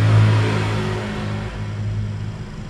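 A Samsung inverter refrigerator's compressor starting up, a low steady hum with a faint whine, loudest at the start and then settling into an even drone.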